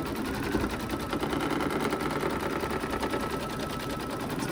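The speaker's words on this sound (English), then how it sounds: "So it's going to stitch down the fabric." An embroidery machine stitches down fabric on a personalized baby bib, with a steady, rapid, mechanical needle chatter running continuously at close range.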